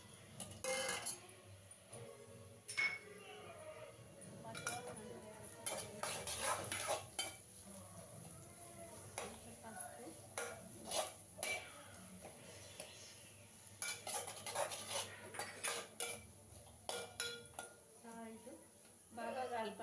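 A spoon stirs fried onions and chana dal paste in a pan, giving soft repeated scraping and clinks against the metal with a faint sizzle, while someone talks over it.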